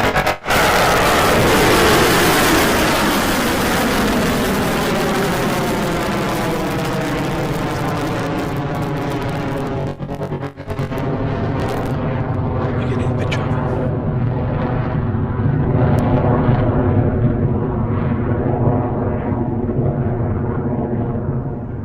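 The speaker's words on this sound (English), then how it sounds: "And we're off the pad for our 8th Electron launch" Electron rocket lifting off the launch pad on its eighth launch: a loud, continuous broadband roar that holds steady throughout, with a brief dip midway.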